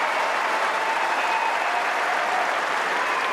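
Tennis crowd applauding at a women's semi-final match, a dense, loud, sustained clapping that fills the whole stretch evenly.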